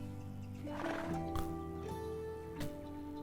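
A horse in the game Ashes of Creation snorts and whinnies, a tonal neigh over a steady low in-game ambience, with a brief thump midway.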